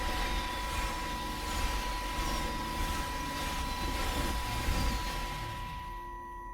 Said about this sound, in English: I can hear the jets coming